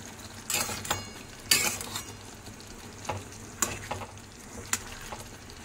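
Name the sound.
mixing veg lollipops into gravy in a pan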